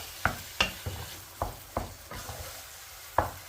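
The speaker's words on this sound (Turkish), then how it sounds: "patlıcanımızla birlikte sosumuzu güzelce kavuralım" Eggplant and sauce sauté in a pan, with a soft steady sizzle broken by about half a dozen sharp scrapes and knocks as a utensil stirs them, close and fairly quiet, with no talk.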